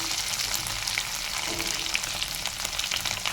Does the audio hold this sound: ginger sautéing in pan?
yes